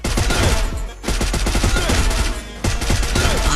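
Rapid automatic gunfire rings out in bursts during a Free Fire battle royale match while enemies are taken down, with dense overlapping shots, one short gap near a second in and a brief lull before the firing resumes loudly.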